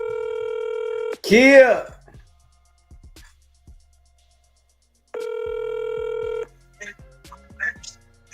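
A telephone rings loudly on a call, each burst a steady harmonic tone, twice about four seconds apart, with a voice and brief noises in the gaps between.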